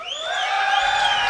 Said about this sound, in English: give a cheer for EmpireKas